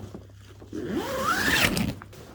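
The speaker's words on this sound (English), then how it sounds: "Bring it down and zip." A zip closing the door of a Terra Nova Southern Cross tent, one close, rising rasp drawn along the zip track for about a second, with no voices.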